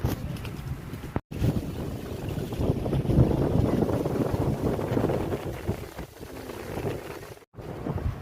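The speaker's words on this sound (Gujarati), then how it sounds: "હવે તો પવન ચાલુ થવા માંડ્યો હે થોડો થોડો" Wind gusting across Girnar mountain on a cloudy day, a steady broad rush buffeting the microphone for several seconds, with two brief dropouts.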